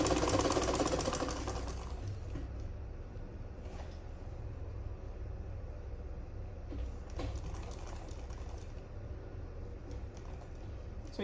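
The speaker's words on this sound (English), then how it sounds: "Place your presser hooks and then sew it down." A sewing machine runs steadily, stitching a seam on a sleeveless gown, at a fairly soft level and close by, a continuous whirring hum with no one speaking.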